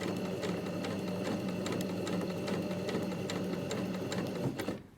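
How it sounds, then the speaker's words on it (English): A sewing machine zigzag stitching a blind hem into folded fabric gives a steady, close, continuous whirring run with rapid ticking needle strokes, then cuts off abruptly just before the end. "Then when the machine does its zigzag, it's just catching the fold."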